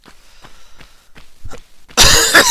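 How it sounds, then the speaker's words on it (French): A person coughs sharply, close up, a single loud burst near the end after a few faint, evenly spaced soft thuds, during a PC session of Tomb Raider 1. "je tousse de plus en plus."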